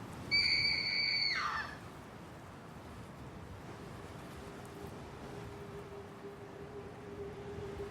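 A single piercing, high-pitched scream rings out for about a second and a half, then fades into a steady windy, rushing background.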